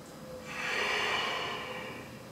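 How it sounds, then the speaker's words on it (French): A person breathes slowly and deeply through the nose during yoga practice, a single long, close, airy breath that swells and then fades. "Sens la respiration faire son trajet"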